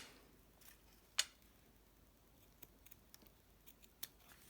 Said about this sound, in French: Ensuite, je vais couper.